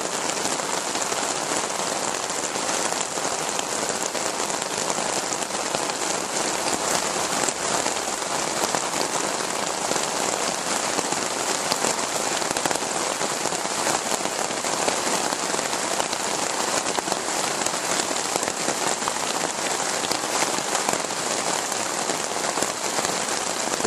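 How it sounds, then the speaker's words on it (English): A steady downpour drums outdoors over a window canopy at a rustic campsite, a thick, constant wash of raindrops close at hand with no voices. "That's how hard it's raining out there right now."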